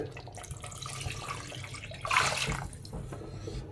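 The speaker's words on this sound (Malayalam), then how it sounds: "അത് നന്നായിട്ട് കുറച്ച് വെള്ളം കൂടുതൽ ഒഴിച്ചിട്ട് നമുക്ക് വേവാൻ വയ്ക്കാം. വെള്ളം ഒഴിച്ചു കൊടുക്കുന്നുണ്ട്." Water is poured into a pot of mutton paya, a soft splashing pour that swells briefly midway, heard close and fairly quiet.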